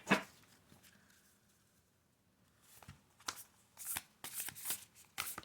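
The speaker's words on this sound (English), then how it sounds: "So I shuffled 3 times" Oversized oracle cards being shuffled by hand, a dense riffling burst at the start followed by a quiet pause, then a run of crisp, close card slaps and shuffling strokes toward the end.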